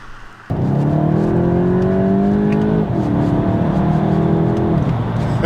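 A Volkswagen Golf GTI engine catches and pulls hard, the exhaust note climbing steadily, dipping briefly at a gear change and then rising again. It is loud and close, with no talking.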